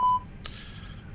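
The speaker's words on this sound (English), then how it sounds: "we can test our APU fire alarms." An APU fire alarm test in an Airbus A320neo cockpit in a flight simulator game sounds as a brief electronic beep tone followed by a steady, quieter chime-like alarm tone held for about a second.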